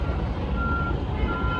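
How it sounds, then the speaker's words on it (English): Truck reversing beeps on a New York City street, two long steady tones over a low traffic rumble. "Truck."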